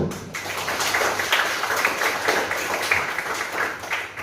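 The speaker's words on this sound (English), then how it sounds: "I want everybody to please bigger clap" Steady audience applause at a tai chi class graduation of the Islamic Union Hong Kong, a dense continuous patter of many hands clapping, moderately loud and even throughout with no break.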